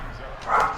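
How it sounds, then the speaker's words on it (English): A single short bark from Gizmo, an excited pet dog, indoors during a football video game session, one quick yip rising briefly over low background sound. "Excuse my dog."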